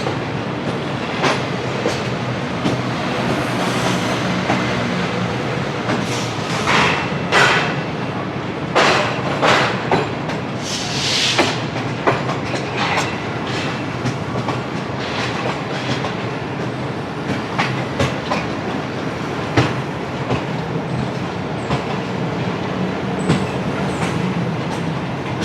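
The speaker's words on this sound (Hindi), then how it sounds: "बदामी बाग रेलवे स्टेशन को ज़बरदस्त पास कर रहा है" The Shalimar Express passing Badami Bagh railway station in Lahore, Pakistan, a loud continuous rumble of a moving train with rhythmic clickety-clack wheel beats and sharp metallic clanks throughout.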